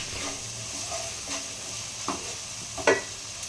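Kashmiri chilli spice paste sizzles and is stirred in a pan for a cabbage and fish-head curry, with a steady close frying hiss and a few sharp scraping stirs.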